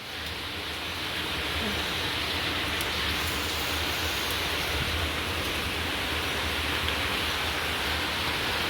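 Rain falls steadily outside, making a dense, even hiss with no breaks and no voices.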